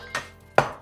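Two sharp thuds from ginger being smashed flat on a cutting board in a home kitchen. The second hit lands harder than the first, and both are close and alone.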